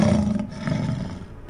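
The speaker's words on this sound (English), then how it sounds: "As the huge beast lunges at Hodge's throat, the Slockmaster sends his deadly spear straight through the lion's chest." A huge lion roars as it lunges in attack, a loud, close, rumbling growl that swells, dips briefly, then surges again before tapering off, with no talking over it.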